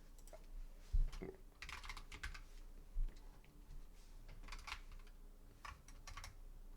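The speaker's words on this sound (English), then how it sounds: "I'm so glad nobody can see how bad I am at typing." Fingers type on a computer keyboard in an uneven, steady clatter of soft clicks, with a couple of heavier thumps, fairly faint and alone.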